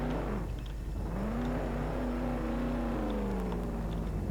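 In the Roblox game Jailbreak, a Molten M12 car engine revs and whirs, rising and falling in pitch in a loud, continuous drone with no talking.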